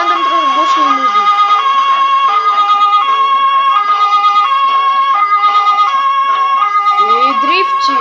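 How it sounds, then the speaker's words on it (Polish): A police car siren in a police simulator video game wails loudly and continuously, its rising and falling tones cycling over a steady engine hum. "A włączę syrenę tak dla formalności, będę trochę głośniej mówić."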